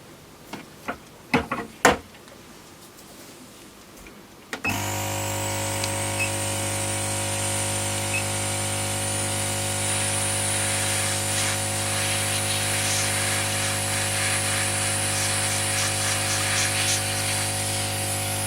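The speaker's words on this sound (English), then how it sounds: "let's get this air blower going. This is a bit noisy, I'm afraid." An air blower at a soldering workbench switches on abruptly after a few quiet seconds with small clicks. It then runs as a loud, steady whooshing roar with a constant low hum, unbroken to the end.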